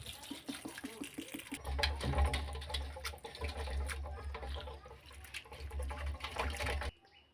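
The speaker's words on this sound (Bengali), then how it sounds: "চিড়াটাকে এবারে আমি একটু জল দিয়ে ভালো করে শুকনো করে জল ঝরিয়ে নেব ধুয়ে।" Flattened rice (chira) being washed in water and drained for a banana pakora and flour laddu recipe: close splashing and trickling water with small clinks, ending abruptly.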